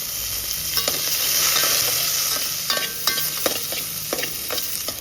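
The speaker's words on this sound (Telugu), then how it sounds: "ఈ పచ్చిమిరపకాయలు మంచిగా ఏగడానికి దీంట్లో కొంచెం నూనె కూడా పొయ్యాలి" Green chillies fry and sizzle in hot oil in a pan for ridge gourd peel chutney, a steady crackling hiss with scattered sharp pops and occasional stirring clinks, close and moderately loud, no talking.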